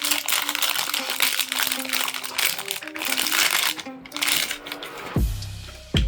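Close, busy crinkling and rustling of a plastic bag holding a MoonSwatch clone watch being handled, with a faint tone underneath and a couple of sharp clunks near the end.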